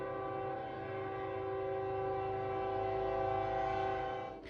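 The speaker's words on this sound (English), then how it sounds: "Just one more train jump scare for the road." Loud, sustained train horn blast from a passing train in the video game Vacation Island, a steady chord held for several seconds before cutting off abruptly.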